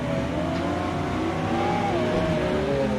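Lamborghini engine revving in a racing video game, a loud, close, continuous drone whose pitch climbs and shifts as the car accelerates, alone without talk.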